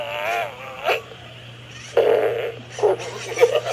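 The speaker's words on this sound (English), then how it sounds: "See if he'll fart." A toy dinosaur named Cruncher lets out electronic fart noises, a couple of short raspy blasts separated by pauses over a faint steady motor hum.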